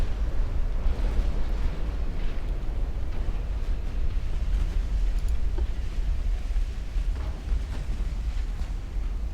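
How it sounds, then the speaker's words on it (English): Naval battle in the video game Ultimate Admiral Dreadnoughts, with a continuous heavy rumble of explosions and distant gunfire rolling together, loud and dense throughout with no talk. "That feeling when you hear those loud explosions."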